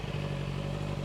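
A 2024 Honda CBR650R E-Clutch motorcycle engine hums steadily nearby, a constant idle-like drone with slight clatter and no speech.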